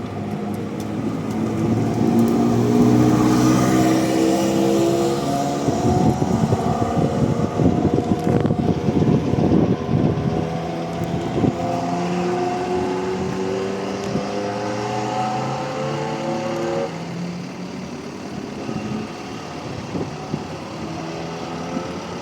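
A Ferrari F40 twin-turbo V8 drives past at a street meet in Osaka, a loud engine note rising and falling through several gears with rumbling exhaust over road and wind noise, no voices over it.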